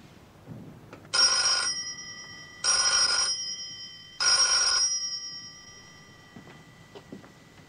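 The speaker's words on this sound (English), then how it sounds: "Ring 3 times and hang up." An old-fashioned telephone bell rings three times in even bursts of about a second each, with short gaps between, loud and clear and then fading out, in a quiet room with no one speaking.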